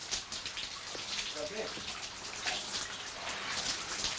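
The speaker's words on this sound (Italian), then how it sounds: "Lasciami almeno finire la doccia." A shower runs with a steady broadband hiss of falling water, close and continuous, with brief voice-like tones partway through.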